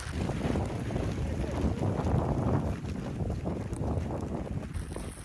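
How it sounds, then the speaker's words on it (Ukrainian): Steady, heavy wind roaring against the microphone with a broad rushing noise and rain mixed in, continuous and loud throughout, outdoors in the Carpathian mountains during a storm. "Вітер, дощ"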